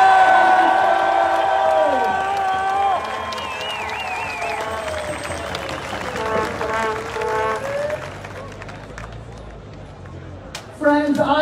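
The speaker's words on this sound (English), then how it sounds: "Give them a cheer." An outdoor Canada Day crowd at the Supreme Court of Canada cheers and whoops for a Snowbirds air show, steady applause and shouts spread across the gathering, fairly distant, with scattered voices and a loud sound near the end.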